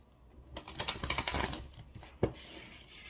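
A quick run of papery riffling as a deck of tarot cards is shuffled up close, ending with a sharp tap.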